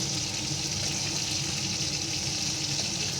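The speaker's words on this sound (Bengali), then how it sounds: "কড়াইতে তেল দিয়েও কটা বসিয়ে দিয়েছি ভাজতে" Katla fish pieces, washed and rubbed with salt and turmeric, fry in hot oil in a kadai wok, giving a steady, even sizzle that fills the whole stretch without pause.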